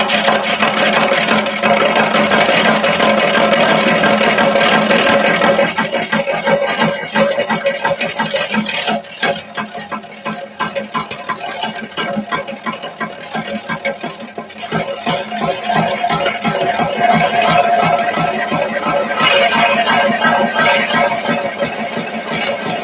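A wood lathe turns a large 40-inch segmented bloodwood bowl while a tool works near its outer edge. A steady motor hum runs under rough, fluttering cutting noise, with a voice talking at times.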